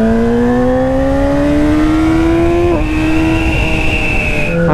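A Yamaha R6 sport bike engine drones loud and close while riding, its steady high-revving tone climbing gradually, with a brief dip as the rider shifts gear and then a sharper drop at the end.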